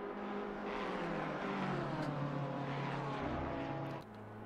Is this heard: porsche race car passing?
yes